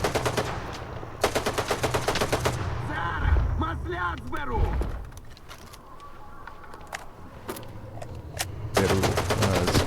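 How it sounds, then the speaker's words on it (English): Machine gun fire in the shooter STALKER 2, loud rapid bursts of automatic shots at the start and again at the end, with someone talking in between over distant battle noise. "I am not clear on who's shooting at me here."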